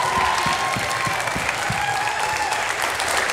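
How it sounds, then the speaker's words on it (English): Audience applause for dancers at a fall dance showcase, a dense, steady wash of clapping that holds loud from start to finish, with a few stray voices faintly underneath. "Let's give all these fabulous dancers another round of applause."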